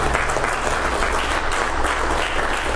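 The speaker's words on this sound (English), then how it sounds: "Give the Lord a hand clap." A church congregation claps together in a thick, continuous round of applause that stays loud and even throughout the short burst.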